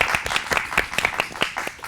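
Modest applause from a small live audience, a few individual claps standing out as spaced sharp bursts over a soft wash of clapping, fairly close and steady.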